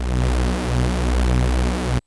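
A thick, buzzing synthesizer tone with a chorused, detuned unison shimmer holds steadily for two seconds, then cuts off abruptly.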